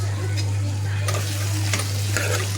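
Tomato and green chillies with turmeric and chilli powder fry in a pan, giving a steady close sizzle with a few stirring scrapes over a constant low hum.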